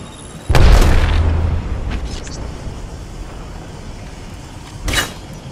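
A grenade goes off in the Apex Legends shooter game, a single deep booming blast that rolls out over a couple of seconds, followed by a fainter thump and scattered in-game effects.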